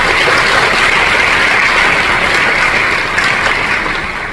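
A high school audience at a senior certificate ceremony claps for the principals in dense, loud, sustained applause that fills the hall and barely eases toward the end.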